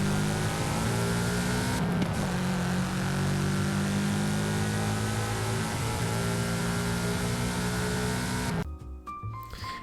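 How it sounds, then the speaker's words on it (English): Subaru BRZ engine in the racing game Forza Horizon 5, a loud steady drone held for several seconds before cutting off abruptly near the end, leaving lighter sputtering revs. "We got a lovely Subaru BRZ."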